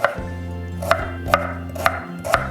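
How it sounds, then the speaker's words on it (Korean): Steady knife chopping on a cutting board, five crisp, evenly spaced thunks close up, with a low hum underneath and no talking. "고추는 그냥 믹서기에 갈 거라 그냥 큼직큼직하게 썰어주시면 돼요"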